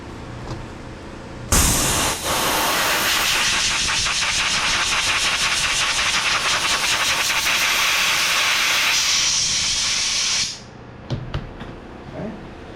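A freshly welded dash trim mount tab hisses sharply as it is cooled, a loud continuous steam burst lasting about nine seconds before cutting off, followed by a few faint clicks.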